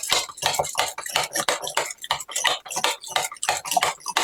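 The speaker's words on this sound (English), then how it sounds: "I'll just use my little push whisk here." A small push whisk beats eggs for lemon crepes, a fast, steady run of close clicking and clinking strokes against a bowl, unbroken and without speech.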